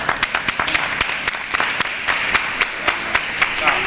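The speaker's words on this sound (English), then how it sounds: "So if you'll give yourself a round of applause." Scattered hands clapping at an African naming ceremony gathering, with sharp individual claps standing out over a softer, continuous bed of applause from a moderately sized group.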